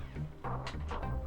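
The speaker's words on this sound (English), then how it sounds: "Thought I heard a meow." A cat meows in the space game FTL: Faster Than Light, two or three short, soft mewing calls close together against a low background hum.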